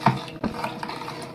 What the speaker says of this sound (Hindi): इसे हिला लें।